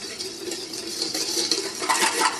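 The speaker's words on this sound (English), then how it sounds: "you can usually get away with mixing them with a whisk" A whisk mixes pancake batter in a bowl with quick, steady, scraping strokes and soft metallic clinks. The sound is close and moderately quiet, with no talking.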